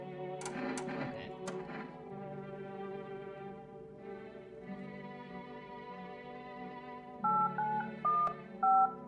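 A telephone number is dialed in a horror video game, a short run of distinct electronic keypad tones near the end after a distorted, echoing hum, with a few sharp clicks early on.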